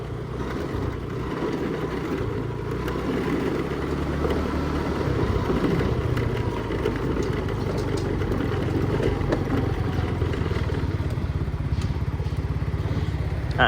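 A gearless motorized three-wheeler rides along a laterite dirt road, its engine droning steadily and close throughout with a rough, rattling edge.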